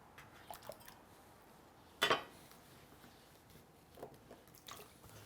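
Cut potato pieces dropped into a bowl of water for a Lao stew, one short splashing plop in an otherwise quiet kitchen, with a few faint drips and clinks around it.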